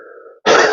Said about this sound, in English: Be prepared, I'm going to cough again.